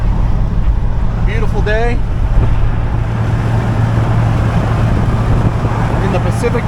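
A 1986 Chevrolet Suburban Silverado cruises at 65 mph at about 1,500 RPM, its steady low engine drone and road and wind rumble continuous throughout, with a brief spoken remark early on.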